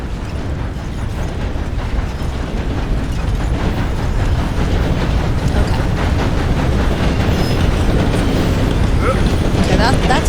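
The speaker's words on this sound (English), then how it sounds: "Okay, that's a train there" In the video game Red Dead Redemption II, a steam train passes close by with a loud, continuous roar of rumbling wheels and clattering mechanism that grows slightly heavier as it goes on.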